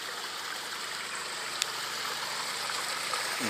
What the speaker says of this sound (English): we built a waterfall, natural waterfall coming down back into the creek